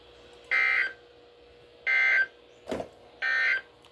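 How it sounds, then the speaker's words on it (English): A weekly test of an emergency warning alarm on a weather radio broadcast sounds three loud, evenly spaced electronic alert tones, each about a third of a second long, with a brief click between the second and third. "This concludes the weekly test of the warning alarm system."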